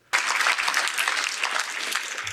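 An audience in a hall breaks into sudden, sustained applause at a religious debate event, steady clapping that starts abruptly and holds evenly.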